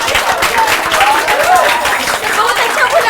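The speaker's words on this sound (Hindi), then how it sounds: "जोरदार तालियां।" Loud, steady applause from a crowd at a farewell celebration for a coaching class, dense clapping continuing throughout without a break.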